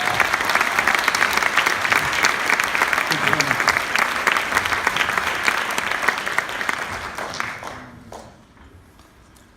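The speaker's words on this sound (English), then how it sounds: "Give him a round of applause and welcome him on stage." A room full of people applauds to welcome a speaker onto a stage, loud and dense clapping that holds steady before fading out over the last couple of seconds.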